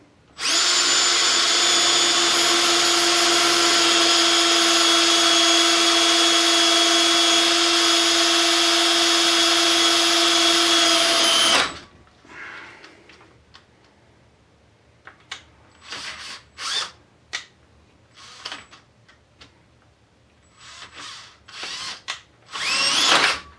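A loud, whining power drill bores into a broken bolt steadily for about eleven seconds, then stops, leaving scattered clinks and short bursts of sound.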